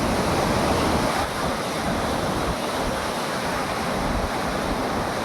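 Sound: rushing floodwater

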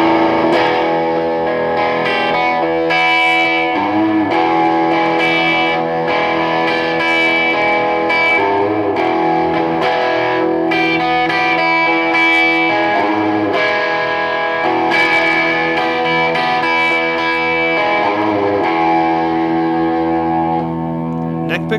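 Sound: 2008 Gibson SG Special electric guitar with distortion

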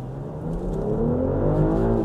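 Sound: BMW mild-hybrid car accelerating hard from a stop

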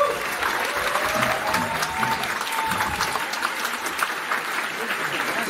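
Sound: audience applause for composer Celso Alves

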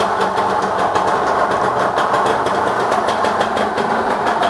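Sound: motorcycle engine running

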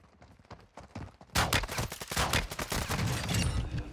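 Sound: shotgun fire in Call of Duty Warzone video game

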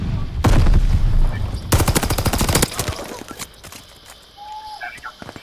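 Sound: Nambu gun firing in video game Call of Duty Vanguard

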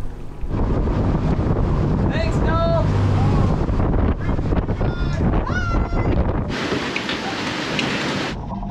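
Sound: wind

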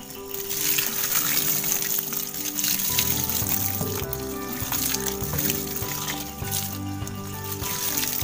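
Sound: pouring liquid over the Madre de Agua ferment

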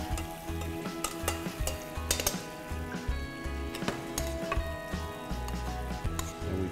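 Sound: veal simmering in marsala sauce

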